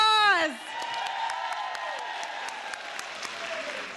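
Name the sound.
applause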